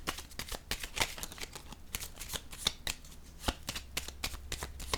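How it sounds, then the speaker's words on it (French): Tarot cards are handled and laid down in a quick string of crisp papery flicks and slaps, close and fairly loud, with no voice over them. "Je vais déposer une carte sur la bonne dame."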